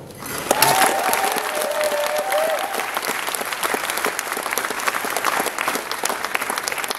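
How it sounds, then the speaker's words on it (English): Convention crowd at BronyCon 2019 applauding a contestant, a dense, even round of clapping held for several seconds with a few cheers rising briefly near the start. "give us the best effort round of applause you can"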